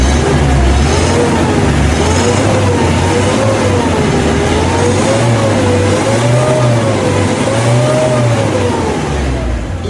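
A Mazda Bongo single-cab truck engine rumbles steadily through its muffler, revving up and down in slow waves, loud and close, with no voices.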